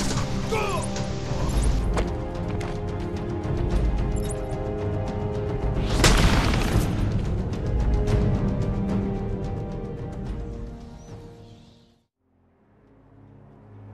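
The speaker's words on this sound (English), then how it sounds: "I just throw a batarang at him and jump on him and do a ground pound" A batarang throw and a ground-pound takedown in Batman: Arkham Asylum, heard as loud crashing impacts over a dense game soundtrack, with a big smash in the middle before everything drops away to near silence and returns faintly.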